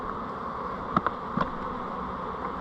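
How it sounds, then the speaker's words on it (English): Honeybees from an opened hive during a varroa check drone in a steady, faint buzz, with a couple of brief, slightly louder passes as individual bees fly close. "All those bees fly around."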